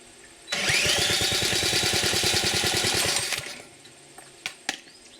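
A Briggs & Stratton 6S engine on a power trowel fires up and runs with a rapid, steady, close firing rhythm for about three seconds, then cuts out, followed by a few faint clicks.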